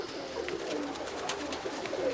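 Roller pigeons coo softly in a loft, several low burbling calls over a steady background hum, with no talking.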